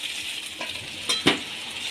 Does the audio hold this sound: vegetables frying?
yes